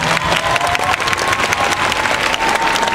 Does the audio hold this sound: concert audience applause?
yes